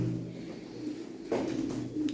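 White gökdüşü pigeons cooing nearby, soft low throaty coos rising twice over a quiet background hum.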